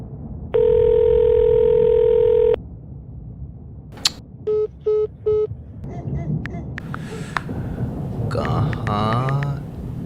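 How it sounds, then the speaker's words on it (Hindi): A phone dial tone sounds after a call is hung up: a steady two-second tone, then three short beeps and a string of phone clicks and chirps, with faint voices underneath. "फोन काट दिया?"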